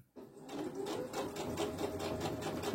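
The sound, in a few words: sewing machine stitching snood fabric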